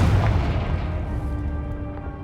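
A Confringo blasting spell explodes in Hogwarts Legacy, a loud booming burst right at the start that rumbles and decays over about two seconds, with no voices.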